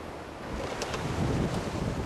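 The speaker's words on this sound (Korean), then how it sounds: "배가 뭍에서 멀어지자 파도가 거세게 일렁입니다." Rough sea swells wash around a small bamboo boat offshore, a steady broadband rush of waves and wind noise with brief splashy bursts, no voices over it.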